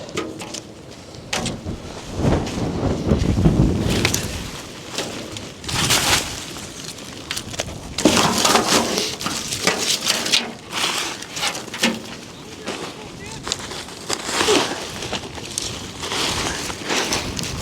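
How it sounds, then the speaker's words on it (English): Strong gusts of wind buffet and roar across the microphone, rising and falling in irregular blasts for the whole stretch. "It is so bloody windy."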